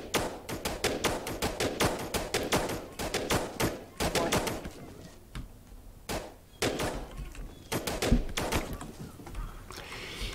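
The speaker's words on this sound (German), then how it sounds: "Die Schüsse sollten die eigentlich anlocken" Rapid, dense bursts of gunfire from the strategy game They Are Billions crackle in irregular volleys, with overlapping sharp shots and brief lulls throughout.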